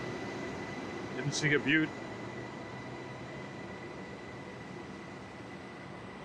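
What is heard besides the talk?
TEXRail train passing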